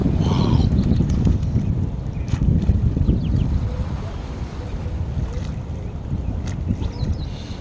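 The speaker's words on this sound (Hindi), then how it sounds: "और वो देखिए सीढ़ियाँ वहाँ से टकरा रही पानी।" Water slapping against stone steps in a cold wind, a constant near wash of lapping and splashing mixed with gusty microphone rumble, no clear talk over it.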